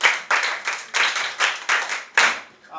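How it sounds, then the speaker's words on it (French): Children in a classroom clap in short bursts, about seven quick rounds of clapping in a row, close and fairly loud, the last burst fading out. "En Asie, applaudissez pour lui."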